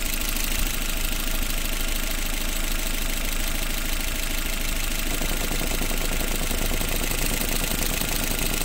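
Idling engine of a Chevrolet Matiz/Spark with the EVAP canister purge valve unplugged, a steady loud mechanical drone and fine rapid ticking running continuously, with a faint change in texture partway through.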